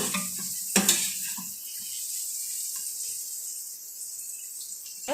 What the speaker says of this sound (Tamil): இப்போது நல்லா ஃப்ரை ஆகட்டும்.